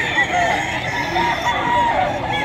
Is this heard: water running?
no